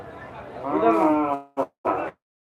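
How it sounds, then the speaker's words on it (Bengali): A cow at a busy cattle market in Gabtoli, Dhaka, lets out one long, loud, close moo followed by two short grunting bellows, then falls silent. "এটা কোন জাতের গরু"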